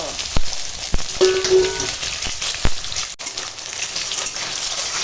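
Crackling, sputtering sizzle of oil frying eggs, with water in the oil, sharp pops and spatters over a steady hiss, close by.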